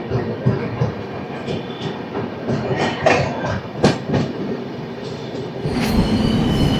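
Secunderabad AC Superfast Express (12783) running on rails from Visakhapatnam toward Secunderabad, a steady loud rumble of wheels with rhythmic clickety-clack over joints and brief bright squeals, heard close from onboard.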